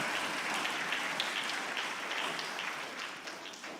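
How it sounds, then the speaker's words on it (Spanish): Congregation applauding for the Lord during a Sunday church service, a dense steady wash of clapping that holds for the whole stretch and fades slightly toward the end. "le damos un aplauso al Señor"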